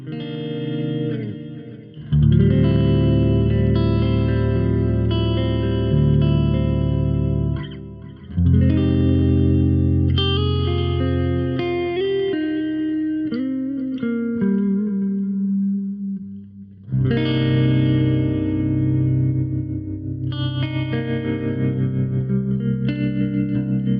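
Distorted electric guitar played through a Quad Cortex amp modeler, sustained chords and melodic lines through heavy effects with chorus and echo, loud and continuous with brief pauses between phrases.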